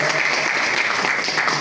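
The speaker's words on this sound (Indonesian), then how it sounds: "Jadi tepuk tangan sekali lagi" An audience at a formal student association gathering bursts into dense, loud applause, a steady wash of many hands clapping with no break.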